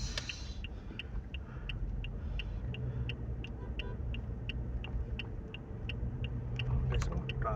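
A car driving through traffic in Saudi Arabia, heard from inside the cabin: a steady low road-and-engine rumble with a regular turn-signal tick running throughout.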